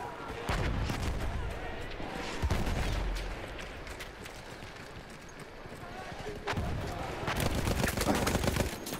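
Scattered Battlefield 1 gunfire, several sharp loud cracks and bursts spread unevenly through a busy battle din, with someone talking over much of it.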